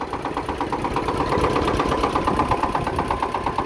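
A Kentavr 240V motor tractor, a 24 hp walk-behind machine, runs on just one cylinder, giving a steady, rapid mechanical knocking beat that stays loud and even throughout, with no voices.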